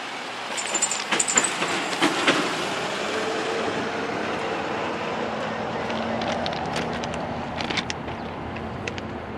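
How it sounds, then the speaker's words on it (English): A CSX interchange train backs caboose first into Watkins Yard, a steady rumbling wash of rail noise with scattered metallic clanks and squeals, loudest in the first few seconds. "a CSX interchange train then began to back into Watkins Yard"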